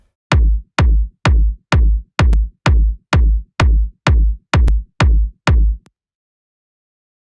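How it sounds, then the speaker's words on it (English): A layered techno kick drum made from a low and a high chain hits eleven times in a steady four-on-the-floor pulse. Each thump is loud and punchy with a deep decaying tail, and the pattern stops before a final hit. "The kick actually sounds like this."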